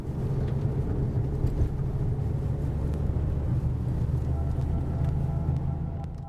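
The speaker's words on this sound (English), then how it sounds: "So we race this BMW M5 Touring again, but this time it was completely stock." A completely stock 507-horsepower BMW M5 Touring races a Porsche 911 Turbo of the 997 generation, heard as a steady, loud, low engine and road roar that holds without a break.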